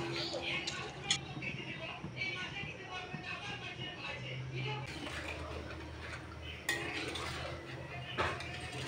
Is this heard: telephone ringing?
no